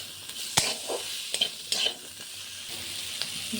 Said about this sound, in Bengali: তারপরে একটু ভালো করে কষে নিলাম।